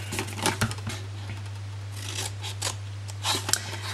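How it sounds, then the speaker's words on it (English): Scissors cut through paper flaps of a handmade gift box with a quick series of crisp snips and paper rustles. The sound is close and clear over a low steady hum. "we're going to cut up each of these flaps"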